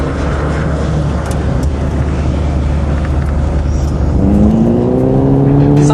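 The engine of a 1970s Mitsubishi Galant rear-wheel-drive sedan runs loudly and close, a steady rumbling drone that rises in pitch near the end as it revs.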